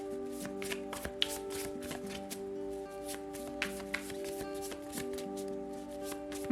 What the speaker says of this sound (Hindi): तो चलिए शफल कर लेते हैं वृश्चिक राशि स्कॉर्पियो साइन के लिए।